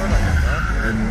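Gymkhana race car engine sputtering and popping, loud and close, with rough, uneven low-frequency bursts over a brief stretch.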